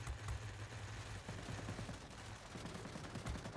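Continuous rapid gunfire from aircraft guns in the video game World of Warplanes, a dense rattling burst-stream over steady engine drone, fairly loud throughout.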